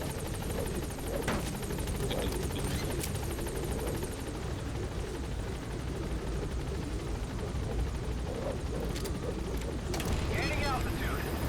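A helicopter in the video game Metal Gear Solid V drones with a steady, loud rotor roar throughout, with brief bursts and thumps layered over it.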